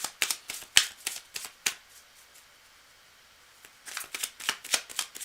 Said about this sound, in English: All right, cards are well shuffled.